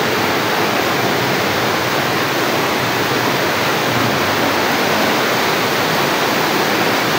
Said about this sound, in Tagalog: tumutulo na yung tubig oh.